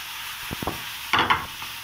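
Vegetables and paneer are stir-fried in a pan, with a soft steady sizzle, a couple of quick stirring clicks and a short burst of louder frying.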